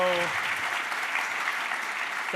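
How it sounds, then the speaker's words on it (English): A short round of audience applause at a business conference fireside chat with the EQ president and CEO, dense even clapping sustained from start to end, with a brief voice at the very start. "Just a quick round of applause for that."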